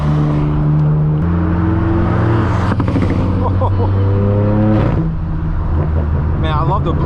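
A Porsche Turbo S passes close by with a whooshing turbo whistle and engine drone, mixed with the low rumble of a straight-piped BMW M4 following it on the road.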